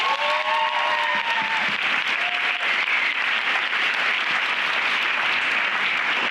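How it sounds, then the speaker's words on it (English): An audience at a panel on suicide and mental health bursts into loud, sustained applause, steady throughout, with faint voices briefly audible over the clapping near the start. "So round of applause."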